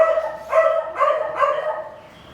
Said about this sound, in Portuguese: Os cachorros não param de latir.